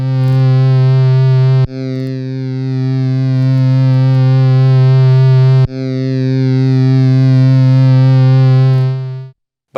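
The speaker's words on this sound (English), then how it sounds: "If I bring the master down and try and overdrive this, you get some really cool distortion" A sample overdriven through a Tascam Portastudio 414 cassette multitrack, with its master level pulled down, gives a loud, buzzing distorted tone. It holds steady for nearly ten seconds, breaks briefly twice, then cuts off.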